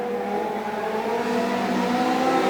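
Several Legend Cars race around a speedway track at Augusta Margaret River, engines howling in a sustained, loud, layered drone that swells slightly as the pack presses on.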